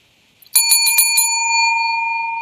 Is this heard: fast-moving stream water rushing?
no